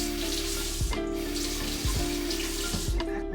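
Tap water running steadily while plant pots are washed out, a loud continuous splashing stream broken by a few brief thuds and knocks of the pots against the basin.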